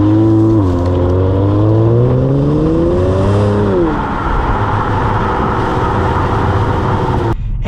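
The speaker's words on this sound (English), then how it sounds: "let's get our acceleration here. Wow, that's quick." A 2020 Kia Stinger GT2 accelerates hard in sport mode, its engine note climbing steadily from inside the cabin, with a quick gear shift about four seconds in, after which the engine settles into a loud, even roar.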